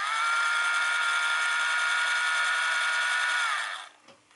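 The small 12V DC motor of a Billard A80D model railcar, lifted off the model, runs with a thin, steady electric whine for several seconds, then spins down and stops with a faint click.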